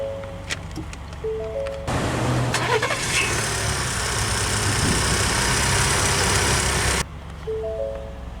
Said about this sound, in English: let's go ahead and start the engine, and along with Smart Key,